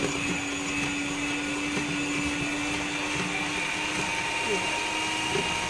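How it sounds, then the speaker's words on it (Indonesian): Steady, continuous whir of an electric hand mixer beating chiffon cake batter, running without pause at an even pitch with a faint hum underneath. "Saya supaya mau cepat, supaya mau rata, jadi saya pakai mixer."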